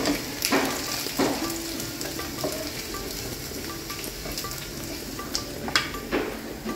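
Spices sizzling in hot oil in a wok while paneer posto is being cooked, a steady fry under sharp clinks of a utensil against the pan, with no talking.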